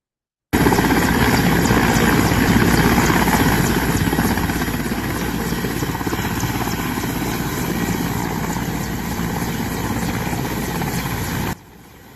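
A Peruvian army helicopter runs loudly and steadily, its rotor and engine roar holding close and constant for about eleven seconds before cutting off abruptly.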